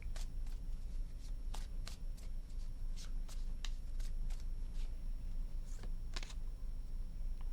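Tarot cards being shuffled by hand during a reading, a steady papery riffle with repeated sharp slaps and flicks over about seven seconds, close and clear with no talking.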